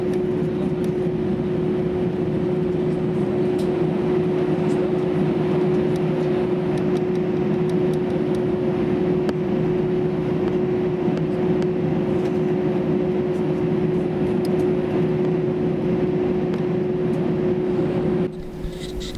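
Steady cabin drone of a Brussels Airlines A319 airliner taxiing toward the runway at Stockholm Bromma, a constant engine hum with a fixed tonal whine, continuous and close throughout, easing slightly at the very end.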